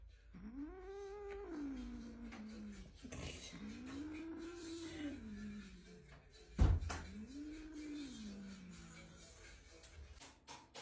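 Three long, drawn-out cat meows rise and fall one after another, close by, with a brief thump between the second and third.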